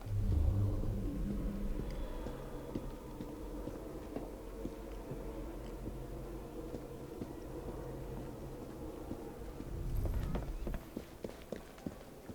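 Horse hooves in the video game Assassin's Creed Syndicate, a steady running gallop over low rumbling game ambience, with a brief swell and scattered sharper clatter near the end.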